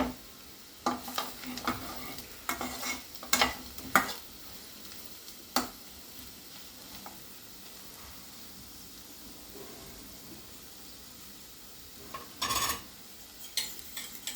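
Food sizzles steadily in a frying pan while an egg dish is cooked, with a soft constant hiss broken by sharp scraping and clinking bursts of stirring.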